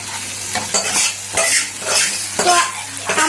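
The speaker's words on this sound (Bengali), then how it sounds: "এইটাকে একটু ভালো করে নাড়িয়ে চাড়িয়ে নিতে হবে" Paneer masala being stirred and fried in a pan, loud repeated scraping of a spoon against the pan in an uneven rhythm over a continuous sizzle, close by, no talking.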